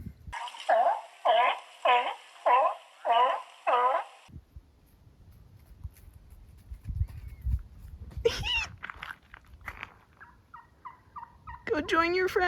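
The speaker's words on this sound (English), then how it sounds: "Did you know turkeys sound like seals?" Wild turkeys gobble in six loud, evenly spaced calls nearby, followed by quieter rustling and a few more distant gobbles and calls.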